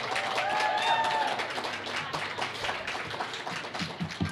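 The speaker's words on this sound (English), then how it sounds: "So a big round of applause here for Cassie Wright and Ryan Imperioso." Applause from an audience at an evening high school promenade as the last couple is announced, steady clapping that swells early and then thins into scattered claps.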